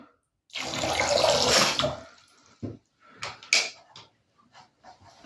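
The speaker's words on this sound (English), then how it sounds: "Priming the cooling water pump." A cooling water pump being primed: a loud gush of running water for about a second and a half, followed by quieter intermittent splashes and gurgles.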